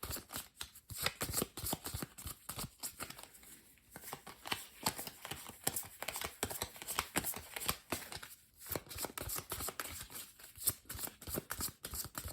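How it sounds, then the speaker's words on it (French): A deck of cards shuffled over and over during a tabletop game of Eila et l'Éclat de la Montagne, quiet dense riffling and flicking that carries on for the whole stretch, with no voices over it. "Je mélange les cartes."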